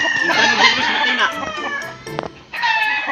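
Chickens and roosters on a farm cluck and crow in a busy, continuous chorus, fairly close, with overlapping calls and a short lull near the end before the clucking resumes.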